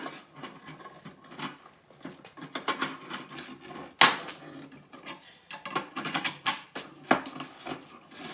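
A scrap item is pried and torn open for recycling, with irregular close crunching, creaking and sharp metallic snaps, one louder crack partway through.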